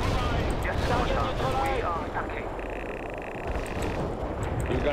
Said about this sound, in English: Shoot this place up.